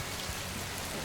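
Rain falls in a steady, dense hiss, a brief, even wash of drops with no break and no voice over it.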